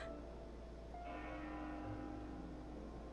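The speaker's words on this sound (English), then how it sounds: "That bell sound must be coming from somewhere." Bell tolling in the Xenoblade Chronicles 2 game world, Chapter 10, a sustained resonant ring that swells from about a second in and hangs over a low ambient drone, moderately distant, with no speech.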